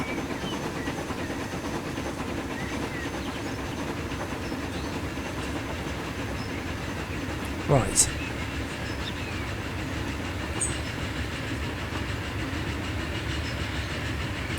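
In Transport Fever 2, a circa-1900 train runs along rails with a steady, loud rolling rumble and clatter throughout, one brief squeal midway, and a single short spoken word.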